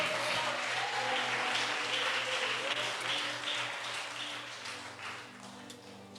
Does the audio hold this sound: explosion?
no